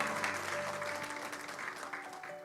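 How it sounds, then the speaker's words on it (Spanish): Steady, dense applause from a church congregation, clapping continuously at a moderate distance with a faint tonal hum beneath. "Denle ese aplauso fuerte a Cristo"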